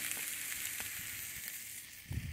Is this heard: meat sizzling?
yes